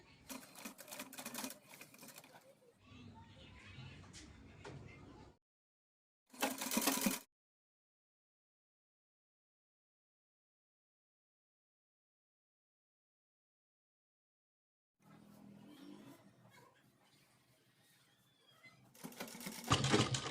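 A sewing machine stitches a drawstring onto a child's pathani suit, heard as rapid mechanical whirring in bursts of several seconds, split by a long silent gap and a short loud burst, with no talk.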